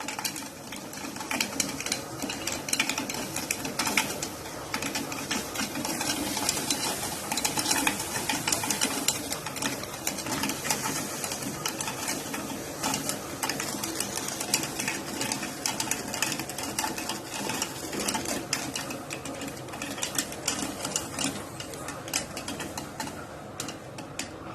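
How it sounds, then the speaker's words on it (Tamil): Dense, rapid popping and crackling of popcorn runs continuously inside a closed pressure cooker, steady and busy throughout with a hissing wash underneath. "பாப்கார்ன் இப்ப வெடிக்குது."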